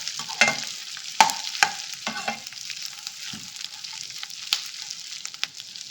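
Garlic and ginger frying in a pan while cooking a country chicken curry, with soft sizzling under a series of sharp scraping stirs of the spatula, close and fairly quiet.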